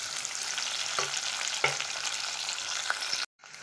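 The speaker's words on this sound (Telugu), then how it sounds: "ఉల్లిగడ్డలు అనేది గోల్డెన్ కలర్ వచ్చే వరకు వేసుకోవాలి" Onions, tempering seeds and curry leaves frying in hot oil for a vankaya gravy curry, a steady dense sizzle with a few stirring clacks, close and loud, then cutting off abruptly near the end.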